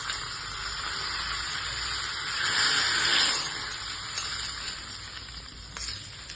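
Hot tempering of mustard seeds, cumin, curry leaves and buttermilk chillies hits cooked rice, a soft hissing sizzle that swells midway and then fades, heard close with no talking.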